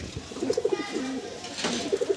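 Pigeons of an old Belnanga breed coo nearby in soft rolling bursts, one series early, a longer low call in the middle, and another series at the end.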